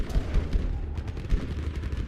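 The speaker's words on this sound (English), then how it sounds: "Yeah, throw some artillery in there, man." Artillery fire in Battlefield V multiplayer: a rapid run of heavy, booming blasts and rumbling impacts, several thuds in close succession, loud and dense without any voices.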